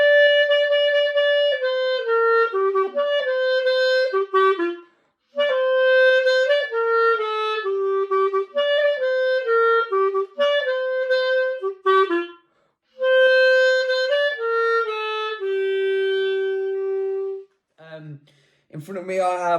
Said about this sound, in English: If you're interested in playing the clarinet, it sounds like this.